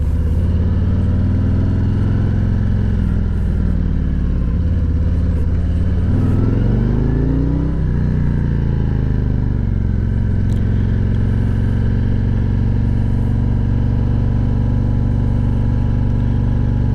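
A motorcycle engine runs at high revs, loud and close, with pitch rising and falling briefly as it accelerates, then holding steady.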